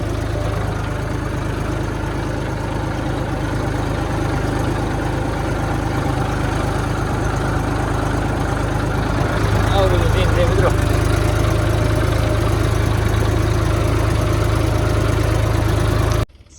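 A tractor engine runs steadily nearby, a constant low mechanical drone with faint vibration throughout and no pauses.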